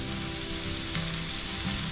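Pork sizzles and spits on a hot tabletop grill, a close, steady crackling hiss with brief pops.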